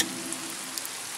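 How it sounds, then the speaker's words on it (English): Steady rain pattering down in a cartoon, a soft, even hiss of falling drops with a few brighter ticks, heard alone without any talk. "Pocoyo can use the rain to clean Lula."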